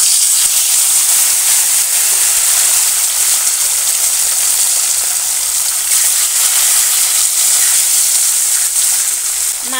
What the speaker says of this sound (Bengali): তেলটা গরম হয়ে যাওয়ার পরেই আমি মাছগুলো তেলের মধ্যে দিয়ে দেব।